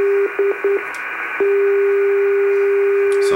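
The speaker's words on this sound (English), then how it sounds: "you'll hear the Morse code ID." A non-directional beacon on longwave radio, 248 kHz, sends its Morse code identifier as a steady tone keyed into short dots and dashes, then one long unbroken note, over a constant static hiss.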